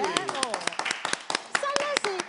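Sharp, separate hand claps sound in an irregular rhythm from a studio audience, loud and close, with someone talking over them the whole time.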